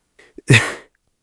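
A single sharp human sneeze, loud and close, with a quick preparatory inhale just before the burst.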